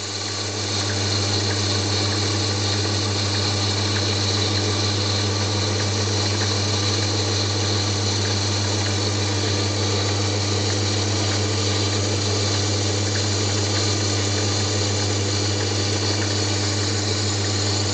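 A mini lathe turns a workpiece with tungsten tooling, giving off a loud, steady mechanical hum and whine that holds unchanged for the whole stretch, close by and with no talk.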